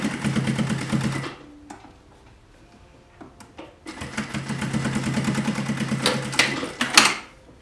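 An industrial sewing machine stitches pleated cotton face masks in fast, rhythmic bursts, with a brief quiet pause in the middle where fabric is handled, then a longer run of rapid needle chatter, close and clear.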